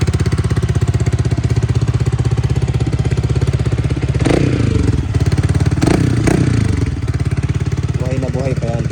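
A Yamaha XSR 155 Scrambler motorcycle engine runs with a rapid, even idle pulse close by, broken by a couple of brief revs, while someone talks over it.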